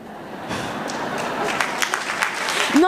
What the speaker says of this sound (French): Non, n'applaudissez pas.